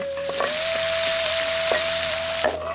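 Steady sizzle of onions, green chillies and curry leaves frying in hot oil, with occasional scraping of a spoon stirring through the pan, continuous and close.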